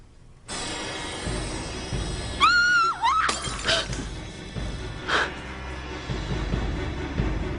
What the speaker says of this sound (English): dropped a glass